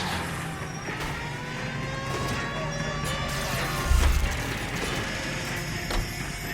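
Car chase in the game L.A. Noire: a steady engine drone and road rumble with a thud midway, under in-game voices.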